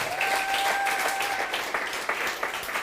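A church congregation applauding in a loud, dense, steady wave of clapping that fills the whole moment, with faint cheering voices mixed in.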